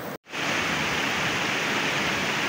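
A strong river current in Tanay, Rizal rushes in a steady, dense roar of flowing water, loud and close, with no voices.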